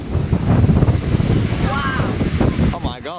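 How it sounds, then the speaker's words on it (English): Gusty wind buffets the microphone with a steady low rumble, while a voice rises briefly near the end. "it's a bit windy."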